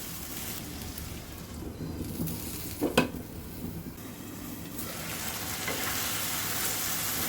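Cow tripe frying and being stirred in a pan, a steady broadband sizzle with spoon scrapes and one sharp clatter partway through, close and continuous with no talking.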